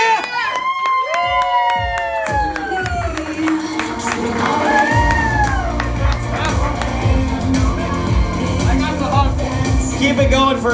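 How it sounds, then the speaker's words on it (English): A Brooklyn stand-up comedy club audience cheers and applauds between acts, a loud and sustained crowd roar with clapping and scattered shouts. "Keep it going for James and Julian giving us a master class in hosting, everybody."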